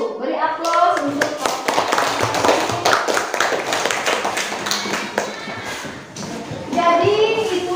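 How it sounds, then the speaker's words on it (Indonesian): A school class of children claps together at the close of a lesson in an Indonesian classroom, a dense burst of hand claps that thins briefly near the end before rising again, with some voices. "Beri aplaus untuk"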